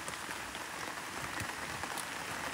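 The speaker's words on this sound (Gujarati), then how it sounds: "આવો ચાલુ વરસાદ છે અને ચાય બને છે થોડીક એવી." Steady rain falls in the Gir forest as a soft, even patter of drops on surfaces. It holds at a constant, fairly quiet level throughout, and no voices can be heard.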